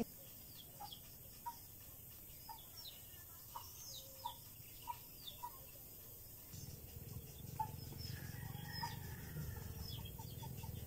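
Scattered soft chicken clucks and chirps sound at a distance over a steady hiss, with a low rumble joining partway through.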